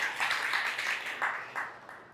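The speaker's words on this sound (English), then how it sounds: "You got a round of applause?" Audience at a comedy show breaks into a short round of applause, a dense wash of many hands clapping at moderate volume, slightly distant, with faint voices mixed in and swells that ease toward the end.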